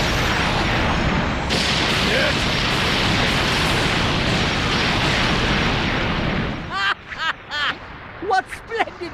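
A fireworks explosion attack in Dragon Ball Legends roars as a long, dense, loud barrage of blasts and rumble, then cuts off into brief bursts of character voices shouting.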